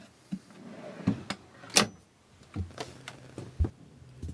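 Clothing drawers aboard a boat slide and bump open and shut, giving a handful of short, close wooden knocks and scrapes spaced irregularly over a few seconds in a quiet cabin.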